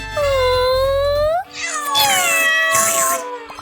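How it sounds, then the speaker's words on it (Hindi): A cartoon cat meows loudly twice, a long rising-and-falling cry followed by a shorter, harsher yowl, close and clear with no talk over it. "बिल्ली।"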